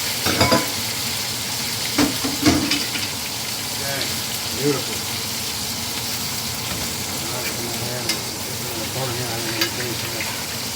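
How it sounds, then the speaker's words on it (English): Steady sizzle of steak frying in a pan fills the clip, with a few louder crackles and clinks early on and a brief spoken word. "That's the sound you want to hear. Nice sizzling."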